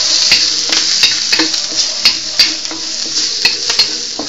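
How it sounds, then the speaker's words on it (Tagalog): Plenty of garlic and green chili sautéing in a pan, a loud hissing sizzle with regular spatula clacks and scrapes against the pan, up close and without any talking. "Tsaka yung sili na green. Ayan. Gawin natin dito, igisa lang natin."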